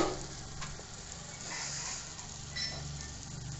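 Ginger garlic paste sizzling in oil in a pan for a restaurant-style chicken gravy, a steady close frying hiss with faint clinks of a spoon against the pan.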